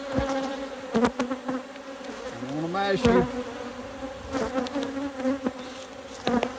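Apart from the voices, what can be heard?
honey bees buzzing around beekeeper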